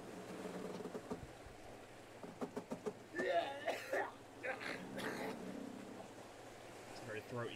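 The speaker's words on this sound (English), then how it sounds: "It's a very throaty cough." A throaty, raspy cough from a character in the Victorian-style horror video game Gloomwood, a few rough bursts heard fairly quietly over a low ambient game backdrop.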